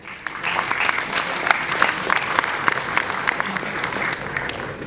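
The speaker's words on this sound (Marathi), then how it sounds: "जोरदार टाळ्या." Loud, dense clapping from an audience at a Marathi music awards ceremony as guests are welcomed, sustained and even with many individual sharp claps poking through, a faint voice briefly audible beneath.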